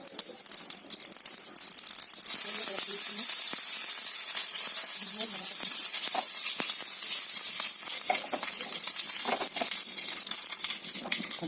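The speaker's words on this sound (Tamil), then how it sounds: "கடுகு உளுந்து போட்டு தாளிச்சுக்கோங்க." Mustard seeds and urad dal crackle in hot oil, then onion joins them, making a steady, close sizzle for a spicy onion kara chutney. A dense hiss runs throughout and grows louder after the first couple of seconds, with small pops scattered through it.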